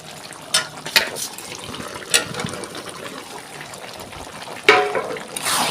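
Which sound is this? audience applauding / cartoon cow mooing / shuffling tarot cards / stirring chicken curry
stirring chicken curry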